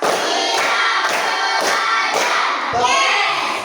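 Several loud, rhythmic claps in a group, regular beats about half a second apart, with crowd noise filling the background.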